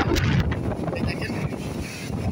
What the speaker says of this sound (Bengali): এই দেখেন ভীষণ বাতাস, বাতাস মানে এত বাতাস যে দেখেন এই গাছগুলো